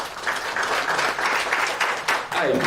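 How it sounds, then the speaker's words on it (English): A conference audience at a launch event applauds as a speaker comes up to the stage, a steady, fairly close wash of many hands clapping that runs without a break. "Let's please give him a big round of applause as he comes up to the stage."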